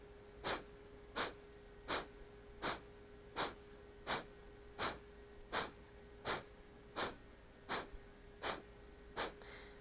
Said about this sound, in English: begin breath of fire here